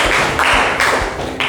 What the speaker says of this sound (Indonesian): Ya, tepuk tangan buat Yesa.